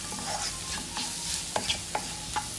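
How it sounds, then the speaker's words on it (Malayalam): Coriander powder frying in a pan for a prawn chilli fry, a continuous close sizzle broken by several short scrapes and taps of stirring. "ഒരു അര സ്പൂൺ അര ഒരു മുക്കാൽ സ്പൂണ് മല്ലിപ്പൊടി പച്ചമണം മാറുന്നത് വരെ നന്നായിട്ടൊന്ന് ഫ്രൈ ചെയ്യാം"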